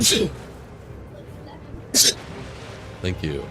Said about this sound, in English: I sneezed, my bad.